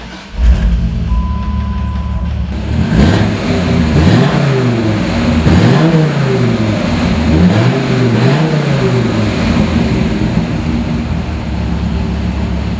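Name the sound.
2004 Dodge Viper SRT10 engine starting and revving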